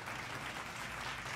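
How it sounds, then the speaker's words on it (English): A short burst of steady applause fills the moment, a dense, even patter of many hands clapping at a moderate, slightly distant level for just over a second. "Here's your applause, by the way."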